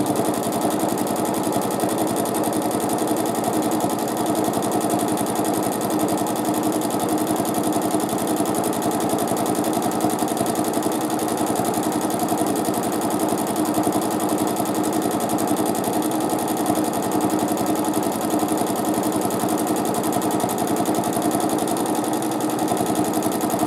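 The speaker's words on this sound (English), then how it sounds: "set the speed for my sewing at the highest level" Sewing machine held at top speed for free-motion quilting, a steady high-pitched continuous whine with rapid needle chatter that never stops, even and close throughout.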